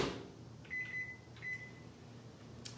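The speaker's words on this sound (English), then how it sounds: "I'm going to stick this in the microwave for 2 minutes" Microwave oven set on high, running with a low steady hum, with a couple of faint high tonal beeps near the start and a soft click at the end; no talking.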